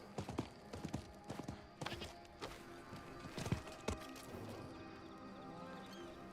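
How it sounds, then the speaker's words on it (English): Horse hooves clip-clopping during riding in the Diablo 4 video game, a faint irregular series of hoof thuds under soft ambient game sound. "We're riding the horse."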